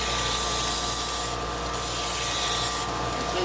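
A wooden hair barrette being smoothed against sandpaper on a power sander, a loud, continuous close-up abrasive hiss under a steady motor drone.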